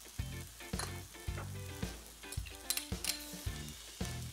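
Vegetables with chili, ginger paste, garlic and sesame seeds stir-frying in a pan give a close sizzle. Repeated ringing clanks of a utensil striking the pan come in a loose rhythm over it.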